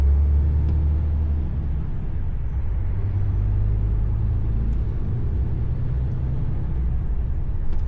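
Road traffic on the M6 heard from inside a lorry, a loud, steady low engine and road rumble that runs unbroken throughout, with faint higher tyre noise above it.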